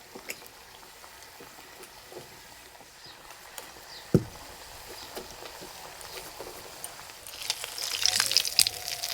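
Quiet, steady sizzle of gokul pitha frying in oil over low heat, with a few faint clinks and a brighter crackle near the end.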